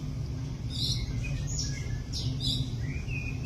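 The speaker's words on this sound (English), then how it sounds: "This is emerald starling." Emerald starlings (Lamprotornis iris) in a zoo give short bright chirps and whistled calls, repeated in irregular bursts over a steady low background hum, fairly near and clear.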